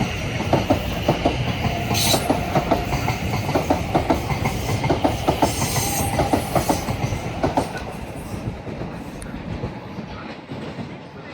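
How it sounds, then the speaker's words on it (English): South Western Railway Class 450 electric trains passing through Clapham Junction, a steady loud rumble with rhythmic clickety-clack of wheels over rail joints, close by and continuous before easing slightly toward the end. "Behind that is another pair of South Western Railway 450s heading off to London Waterloo."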